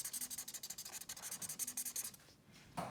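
Quick back-and-forth scratching of a pencil or crayon coloring in a squirrel drawing on paper, soft and close, in rhythmic strokes with a brief pause near the end.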